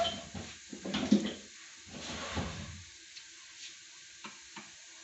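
Chopped garlic sizzles quietly in hot oil in a pan for a mixed vegetable sabzi, with soft stirring scrapes over the first few seconds before the frying hiss fades into faint, sparse clicks.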